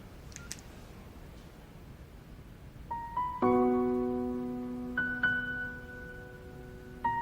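A phone rings with a sustained electronic ringtone: bright layered tones start around three seconds in, swell, and repeat in steady bursts against a quiet room.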